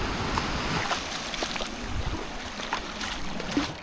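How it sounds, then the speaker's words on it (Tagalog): A small fishing boat, a banca, rides on the sea off a beach in Mariveles, Bataan, with a steady broadband rush of engine, wind and splashing water throughout, close and continuous. "Ayun ang sasakyan namin, bangka na maliit."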